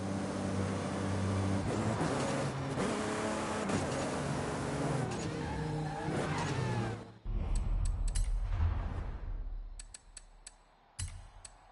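A car in the Forza racing game revs hard and accelerates after a handbrake start, its engine note climbing through several loud rising sweeps before cutting off, followed by scattered clicks and faint knocks.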